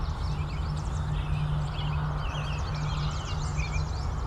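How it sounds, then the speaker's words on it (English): American robins and yellow warblers sing in an outdoor natural setting, with faint overhead calls from a couple of Canada geese, all distant and soft over a steady low background hum. "So you can hear some American robins, yellow warblers, there's a couple Canada geese going overhead."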